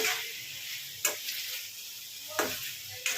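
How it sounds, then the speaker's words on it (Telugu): Chicken sizzling in a hot pan, a constant crackling hiss broken by three brief bursts of louder spattering. "చూడండి, చికెన్ అయితే ఇలా ఫ్రై కావాలండి."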